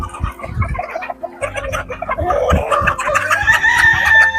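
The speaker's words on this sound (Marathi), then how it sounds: "आपण हे पक्ष्यांना खायला घालून बघूया कशा प्रकारे पक्षी खात आहेत." Chickens flocking to a feed of black soldier fly larvae on a farm, with a dense, continuous chorus of clucks and squawks and a rooster-like crow rising toward the end, close and loud.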